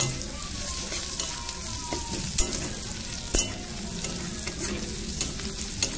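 Turmeric and cumin powder stirred while frying in a pan over a low flame, giving a soft, steady sizzle broken by sharp scrapes and taps of the spoon against the pan, with no voices.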